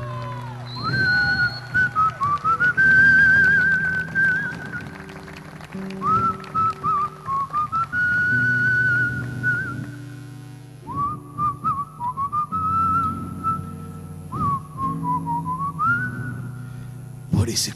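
Melodic human whistling in a live traditional folk song performance, long sustained phrases with sliding pitch repeating over a soft instrumental backing, close and clear.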